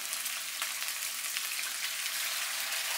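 Salmon fillet laid skin-side down in hot oil in a pan, giving a steady, loud, dense sizzle with fine crackling spatters throughout, no voices.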